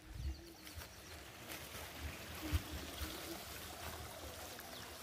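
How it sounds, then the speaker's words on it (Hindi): A small stream trickles and flows through village fields in Himachal under cloudy skies, a faint, steady burble with soft bird calls and distant outdoor sounds. "खेतों में भी ऐसे झरने चल रहे हैं।"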